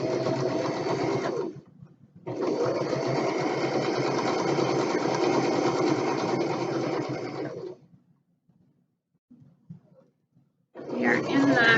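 A sewing machine stitching quarter-inch quilt seams runs in loud, steady bursts with a dense mechanical whir, stopping briefly, running long again, pausing with faint handling noises, then starting once more.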